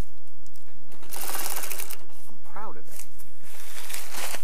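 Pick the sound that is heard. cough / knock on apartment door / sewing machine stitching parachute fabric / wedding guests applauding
sewing machine stitching parachute fabric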